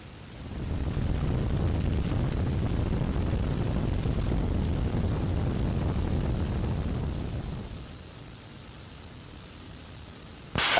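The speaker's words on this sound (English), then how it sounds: "I got Jay flying the airplane back here" Inside a B-25 bomber in flight, the engines and airflow make a loud, continuous broadband roar that holds steady for several seconds, then eases to a quieter drone toward the end.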